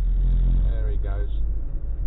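A car overtaking on a roundabout, its engine swelling briefly from a low rumble and fading again, heard from inside another vehicle under a steady cabin drone.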